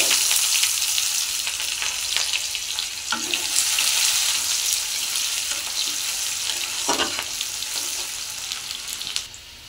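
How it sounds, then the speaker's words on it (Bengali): Chopped onions fry in a pan with dried chillies and cumin, giving a loud, steady sizzle close by, broken by a few soft clinks and scrapes of stirring. "পেঁয়াজ ভাজা হয়ে গেছে"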